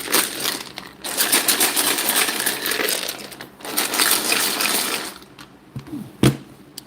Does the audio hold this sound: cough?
no